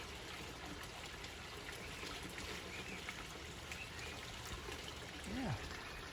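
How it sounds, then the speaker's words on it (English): A koi pond waterfall, part of the filtration system, runs steadily in a garden, a constant trickling and splashing wash of water that fills the whole stretch, with a faint bird chirp near the end. "Waterfall's on because it's part of the filtration system."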